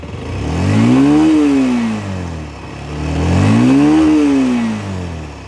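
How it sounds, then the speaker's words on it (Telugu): A Bajaj Avenger Street 160 motorcycle engine, a 2024 model, revs up twice from idle. Each loud, close throttle blip rises in pitch, holds briefly, then falls back before the next one. "అండ్ ఇప్పుడు మీరు చూసినట్లయితే చాలా రిఫైన్డ్గా ఉంటుంది ఐడ్లింగ్లో"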